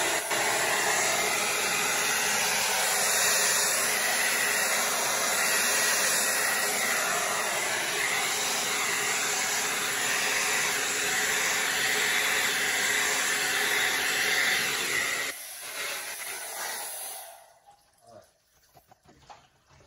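A hair dryer blows steadily and loudly across wet acrylic pour paint in a Paynes Gray bloom technique piece, a broad continuous roar that cuts off near the end, leaving brief quieter rustling.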